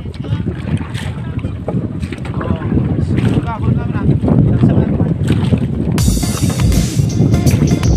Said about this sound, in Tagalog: biyahe na itong malaking barko namin